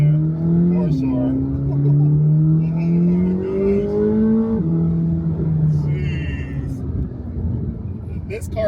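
A 2026 Chevrolet Corvette C8 ZR1 accelerates with a deep engine drone that rises through two climbing pulls, a sharp shift between them, then eases off under wind noise, close and loud.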